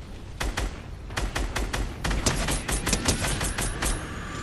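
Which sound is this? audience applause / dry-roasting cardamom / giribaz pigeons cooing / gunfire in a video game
gunfire in a video game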